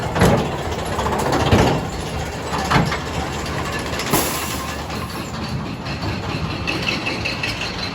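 A roller coaster train, New Revolution at Six Flags Magic Mountain, rumbles past steadily with rolling mechanical noise and faint clacking, loud and continuous throughout.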